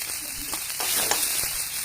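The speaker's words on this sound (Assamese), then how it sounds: "এয়া পিঁয়াজ দিলোঁ" Onions sizzle in hot oil in a pan where fish has just been fried, giving a steady close crackle with a few louder spits and no voices.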